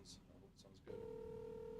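Calling someone on a phone during a fantasy football talk show: faint tones give way to a steady, continuous dialing or ringback tone that holds at an even level for about a second.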